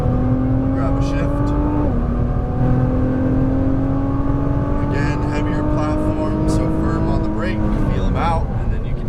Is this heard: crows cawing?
no